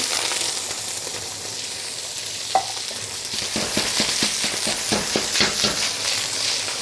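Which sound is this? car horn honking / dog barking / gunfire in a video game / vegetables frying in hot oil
vegetables frying in hot oil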